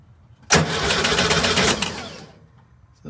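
A VW Thing engine cranks on its starter for about two seconds of fast, even churning, then drops off, with quiet before and after.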